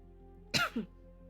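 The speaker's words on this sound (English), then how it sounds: "Cough. Can you stop?" A single short cough with a quick second burst, close and fairly loud against a quiet background.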